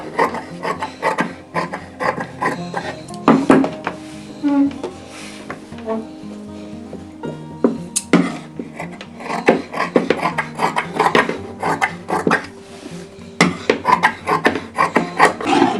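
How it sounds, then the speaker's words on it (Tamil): Scissors cut through folded fabric for a U-neck blouse, giving close, repeated rasping and rubbing snips with a few clicks and knocks, with no talking over them. "இப்போ இந்த துணியும் அதே மாதிரி சரியாக வச்சு பாதியில் வச்சு 2ஆக மடித்து போட்டு கட் பண்ணிக்கணுங்க"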